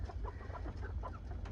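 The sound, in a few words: American Bresse chickens and rooster clucking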